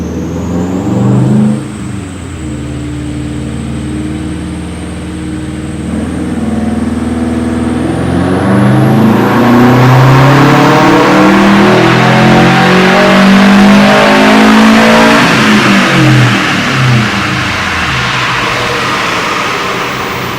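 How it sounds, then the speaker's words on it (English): A built 2006 Subaru WRX engine tuned on a Link G4x, revving at full throttle during a dyno pull, loud and continuous with pitch climbing steadily over about twenty seconds, no talking. "So I started that pull a little late that time I was already loaded before I was fully throttle, at full throttle"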